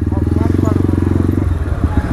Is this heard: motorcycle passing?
yes